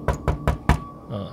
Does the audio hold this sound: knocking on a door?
yes